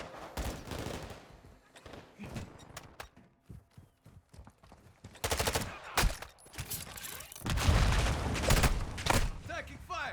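Bursts of automatic fire from a deployed sentry gun in Call of Duty Modern Warfare 2, defending a port, come in loud clustered volleys separated by quieter stretches of scattered shots, with game radio voices in between.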